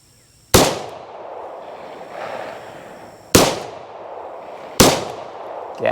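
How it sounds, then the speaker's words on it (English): Three loud, sharp gunshots from a Yugoslav Tokarev pistol at an outdoor range, spaced a couple of seconds apart, each followed by a short echoing tail. "a couple more rounds. with our Yugo Tokarev."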